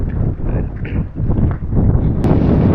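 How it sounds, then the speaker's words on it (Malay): Strong wind blows near a harbour, buffeting the microphone as a loud, continuous low roar that swells and gusts, with faint background sounds and no clear talk. "Angin kuat ni."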